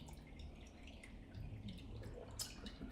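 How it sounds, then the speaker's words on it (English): Liquid drips from empanada filling as it strains to draw off excess moisture, a soft, faint patter of small drops falling steadily through quiet kitchen background noise, with no one speaking. "I'm letting it strain because you don't want it too wet."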